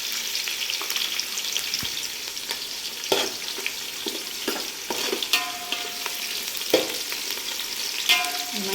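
Chicken pieces fry with biryani masala and green chillies, a continuous close sizzle with repeated scraping stirs and occasional sharper clatters of the spoon against the pan, no voices.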